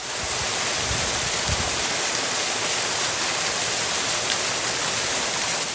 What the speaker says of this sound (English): making our way along in this kind of light rain all day